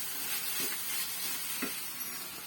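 Chilli paste hitting a hot pan in a home kitchen for a sandwich filling, giving a soft, steady sizzle and hiss with a couple of faint stirring taps, fairly quiet and close.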